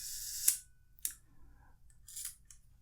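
A Mamiya C220 twin-lens camera shutter set to a long exposure trips with a sharp mechanical click, then more crisp clicks and a soft whirring follow a moment later, close and faint in a quiet room.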